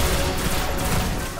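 Rapid gunfire from a shooter video game, Destiny, blasting at a pair of wizard enemies, a dense continuous barrage filling the short stretch at steady loudness with no voices over it.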